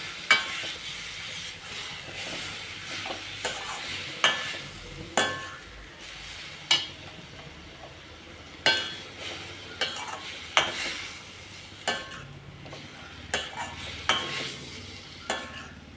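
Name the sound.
ground masala being stirred and sautéed in a pan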